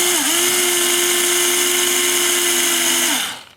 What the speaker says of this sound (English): I use an electric driver, and I'll pull the screw close with the electric driver